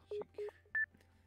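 Telephone dialing in the video game Nekopara vol 1: three short, clear keypad tones in quick succession, each a crisp beep standing alone against a low steady hum.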